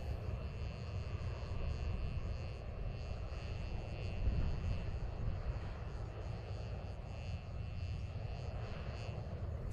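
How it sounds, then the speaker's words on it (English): An RS-25 rocket engine hot fire test on the Fred Haise test stand at NASA's Stennis Space Center: a steady, distant, broadband roar that holds constant throughout. "today's certification hot fire of an RS-25 rocket engine on the Fred Haise test stand"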